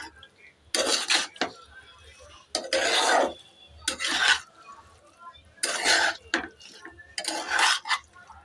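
Chicken liver is stirred in mustard oil in a pan, with several bursts of spoon scraping and clanking against the metal, separated by short quiet gaps.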